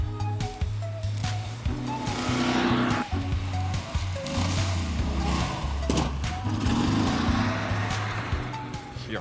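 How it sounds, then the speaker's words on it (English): A double-tracked snowmobile runs through deep snow, its engine revving and surging in repeated bursts at close range, the tone rising and falling as the throttle changes. "Especially a double-tracked snowmobile shows impressive capabilities in deep snow"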